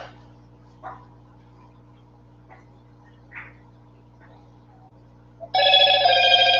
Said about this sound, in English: Oh no, that's my phone.